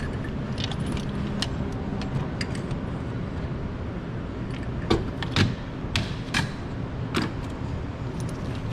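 Metallic clinks and light rattles as old spark plugs are drawn up out of the cylinder head of a Honda CR-V with a magnet, several sharp taps over a steady low background hum, close by.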